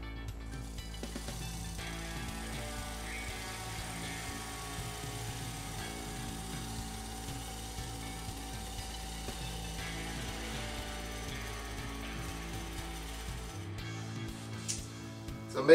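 Sharpened bowl gouge turning an end grain wood bowl on a lathe: a steady low motor hum with a rhythmic whirring tone and intermittent scraping of the tool on wood, ending with a brief clunk.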